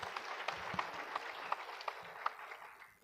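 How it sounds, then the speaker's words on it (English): Applause at an annual general meeting, a faint, distant patter of clapping hands held steady for a few seconds before slowly fading, no talk. "Can I get a good clap for the auditor?"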